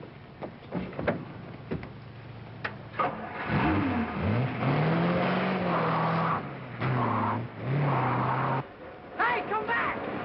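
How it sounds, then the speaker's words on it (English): Car engine accelerating during a chase in an old drama film, revving and whining up and down in pitch with a few skid-like sweeps, heard amid sharp bangs and people shouting. "Get in your car and overtake him."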